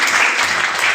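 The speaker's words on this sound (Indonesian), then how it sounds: "Mari kita beri tepuk tangan" Wedding guests at a ceremony clap together, a loud, dense burst of applause filling the whole moment without pause.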